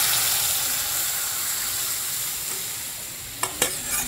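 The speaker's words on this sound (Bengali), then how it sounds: "চালটা আমি এবার এর মধ্যে ঢেলে দেবো।" Rice frying with garam masala and spices in a pan for a Bengali navratan dal, a steady loud sizzle and hiss with a few sharp scrapes of stirring near the end.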